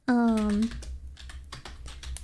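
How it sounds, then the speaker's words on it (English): Quick run of computer keyboard typing close to the mic, with irregular key clicks that follow a short hummed vocal tone at the start. "I hope this keyboard isn't too loud."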